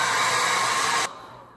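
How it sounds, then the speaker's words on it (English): An old hair dryer blows with a loud, steady whooshing hum up close, then abruptly switches off, leaving only faint room noise. "I'm going to blow dry my hair, but before I like make a ton of noise"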